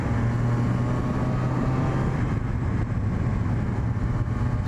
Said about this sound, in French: Aujourd'hui on va tester le Z1000 de 2008.